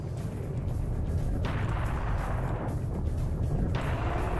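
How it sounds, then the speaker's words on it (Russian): Gunfire in the video game Serious Sam: The First Encounter: heavy, booming shots over a constant roar of battle noise, loud and close. "О, Макс, у нас есть пушка."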